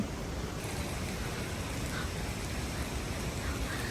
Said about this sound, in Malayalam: ഇപ്പം മഴയാണ് കേട്ടോ മഞ്ഞില്ല മഴയാണ്